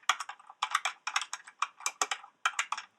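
Quick bursts of computer keyboard typing, close and crisp, in short clusters of keystrokes separated by brief pauses.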